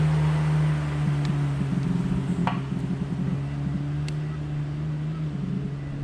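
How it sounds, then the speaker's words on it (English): A jet ski passes on a lake, its steady engine drone holding throughout over wind noise and faint background sounds, with the pitch shifting slightly as it goes by. "Neighborly jet skier there."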